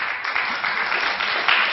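Steady crowd applause from a panel audience at a privacy discussion, a dense even patter of many hands clapping throughout, moderately loud with a brief swell near the end.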